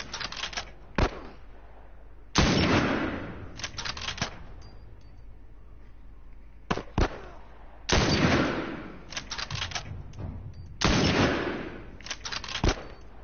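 Gunfire in The Last of Us video game arrives as repeated sharp shots and loud bursts spaced over several seconds, some in rapid clusters, with no talking.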